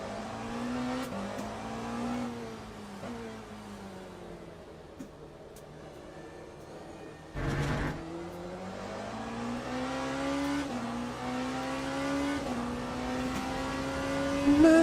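A Porsche race car engine in Le Mans Ultimate at Fuji: a steady, loud mechanical drone whose pitch climbs through the gears, drops sharply at each shift and climbs again, with one abrupt rougher burst midway.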